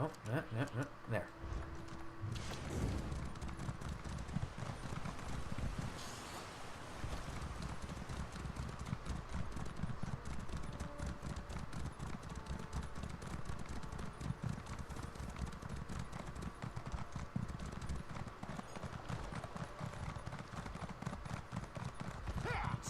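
A horse walks in The Elder Scrolls Online, its hooves clip-clopping in a steady, continuous rhythm throughout, moderately close, with a brief louder thump early on and a player's voice talking intermittently over the game sound.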